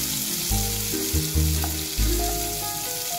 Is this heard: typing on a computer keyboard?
no